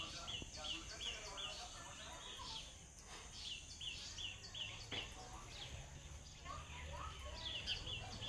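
Repeated high, short chirps from small birds scattered over a steady background hum, moderately close with no talking.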